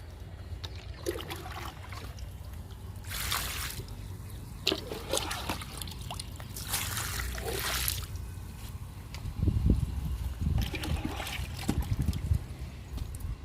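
Liquid fertilizer is poured onto wilted, dried-out bottle gourd plants that went four days without water, heard as several separate bursts of trickling and splashing at close range.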